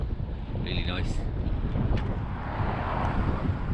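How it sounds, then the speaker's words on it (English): Strong wind buffets the microphone outdoors near a bridge, a continuous loud low rumble with a faint voice briefly audible underneath. "It's very windy today"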